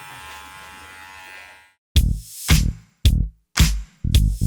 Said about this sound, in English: Today I'm gonna do Theo's face with the Laguna clipper